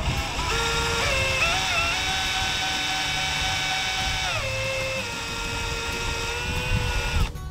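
A stepper motor lowers a whole bandsaw system in a shed build, a steady close whine that steps down in pitch partway through and runs alone without talk.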